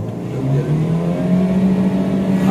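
Car engine climbing in pitch as it accelerates through the gears on an open road during a pickup test after tuning, loud and close, with a rising whine and steady engine drone and no talking.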